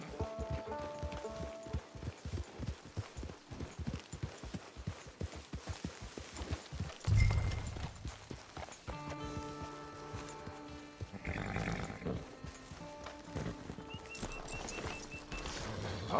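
Horse hooves clip-clop in Red Dead Online, a steady close walking rhythm of hoofbeats that gives way to a thud, then quieter movement under a musical score.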